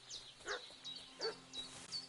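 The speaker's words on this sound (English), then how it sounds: "What's that dog making such a fuss about?" Dog barking in the video game Kingdom Come: Deliverance II, a series of faint, fairly distant yips and barks in an uneven rhythm over a low background hum.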